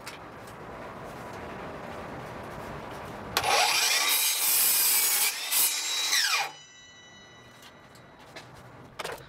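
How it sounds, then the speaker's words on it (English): Milwaukee 7-1/4 inch cordless miter saw cuts through a 2x4 board, a loud whining spin-up and roughly three-second bite into the wood, then winds down to quiet room tone. "the first test we're gonna be doing is seeing how many 2x4s this saw can cut per charge"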